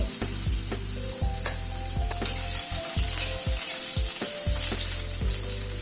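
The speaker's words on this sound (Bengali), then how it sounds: "আলুটাকে আগে একটু ভেজে নিচ্ছি" Pre-boiled potatoes fry in oil with tempering spices in a pan over a low gas flame, a steady bright sizzle broken by repeated scraping and stirring strokes at a regular pace, close by and without talk.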